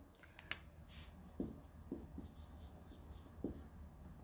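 Pen scratching and tapping across paper in short strokes, very faint and close, with occasional soft clicks and no talk.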